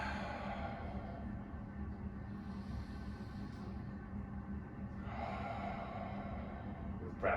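Slow, deep breaths during a yoga pose: steady, close breathing sounds with soft snorting exhales over a constant low background hum, and a slightly stronger breath near the end.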